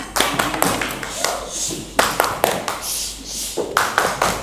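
Students in a classroom perform a rhythmic clapping routine, sharp group claps landing in a patterned sequence with short pauses between bursts, loud and close.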